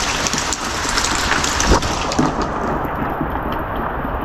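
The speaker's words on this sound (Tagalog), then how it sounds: "Laganas ang ulan." Heavy rain pours steadily at a farmhouse construction site, a dense, loud, continuous hiss of drops on surfaces with a few heavier thuds, and no voices.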